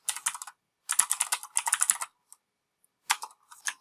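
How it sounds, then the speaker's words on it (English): A password is typed on a computer keyboard in quick bursts of close key clicks, separated by short pauses, ending with a few isolated taps. "Being very careful to try to type it the same twice."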